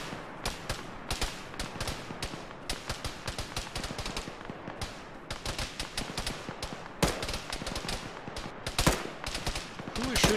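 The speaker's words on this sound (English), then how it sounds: "Who is shooting at us from where?" Gunfire aimed at a squad in a military video game, sharp rapid shots and machine-gun bursts cracking irregularly, some near and loud, others more distant, over about ten seconds.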